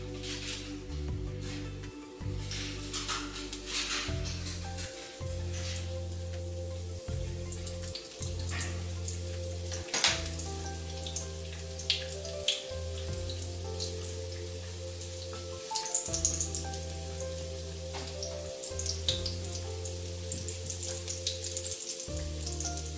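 Potato-filled pirozhki fry in hot oil, a steady crackling sizzle with scattered pops over a low hum, no voices present.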